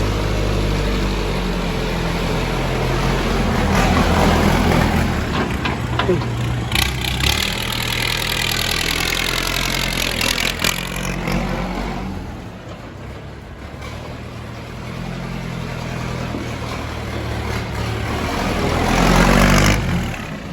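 A Kubota L4708SP tractor's diesel engine idles and runs steadily close by, with a rough, throaty rumble that swells and dips as it revs.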